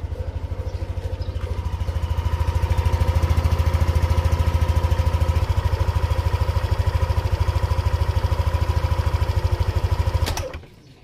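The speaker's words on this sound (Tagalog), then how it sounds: "kung napapansin nyo, ang tahimik ng makina natin dito" A motorcycle engine idles steadily with a smooth, even low putter, close and fairly loud, then cuts off abruptly near the end.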